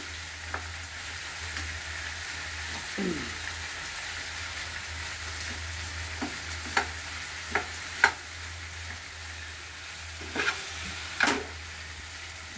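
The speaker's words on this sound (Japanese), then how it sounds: "しっかり炒めるというのが甘みが出て" Meat and onions stir-fry in a pan for Japanese home-style curry, a steady soft sizzle with occasional scrapes and clinks of the utensil, close and moderately quiet, with no talking.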